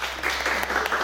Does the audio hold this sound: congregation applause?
yes